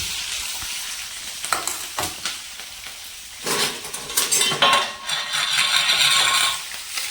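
Green chillies and curry leaves hitting hot oil in a home kitchen pan, a loud crackling sizzle that swells sharply midway with metal utensil clinks and stirring, close up and without speech.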